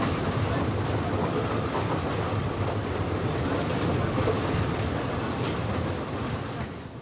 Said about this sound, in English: I'm glad to be off the roads and back on trains